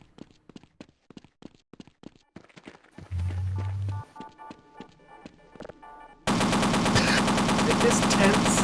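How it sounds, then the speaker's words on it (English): Rapid machine gun bursts in a video game battle, sharp repeated shots in quick rhythm with a low hum partway through, then a dense loud wash of gunfire and noise at the end. "Is there a machine gun on one side and not the other?"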